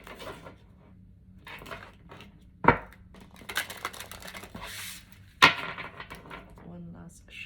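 Tarot cards are shuffled by hand in bursts of riffling and flicking, with two sharp slaps of the deck and soft talk in between, close and fairly quiet.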